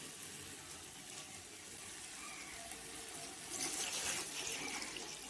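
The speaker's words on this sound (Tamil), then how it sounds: "அளவு தண்ணி ஊற்றிக்கலாம்" Water streams steadily into a cooking pot for vegetable biryani, a continuous close pour that swells louder and splashier near the end.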